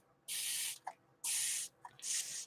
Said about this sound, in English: So I'm going to spray it with my, the what's that called? Constant spray or whatever it is.